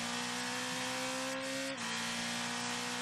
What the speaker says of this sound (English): he's for sure feathering the throttle, it sounds like, here